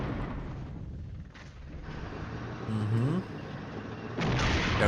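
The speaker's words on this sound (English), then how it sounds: "Small arms fire." Small arms fire in the wargame Flashpoint Campaigns: Southern Storm, a steady rattle of distant gunfire with booming impacts and a low rumble, rising louder toward the end.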